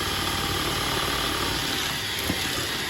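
An electric hand mixer beating brownie-style chocolate batter runs in a steady, moderately faint whir with a grinding mechanical edge, continuous and alone throughout.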